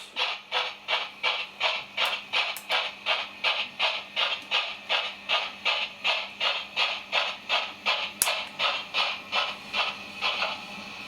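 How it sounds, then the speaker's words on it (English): A Hornby R3300 model locomotive, Winston Churchill, gives a rhythmic steam chuff with regular hissing beats and a faint simmering boiler beneath, shuttling back and forth on a set track with insulfrog points, close and steady, with no voices. "What I like is the way you can hear the boiler simmering in the background, like on real locomotives."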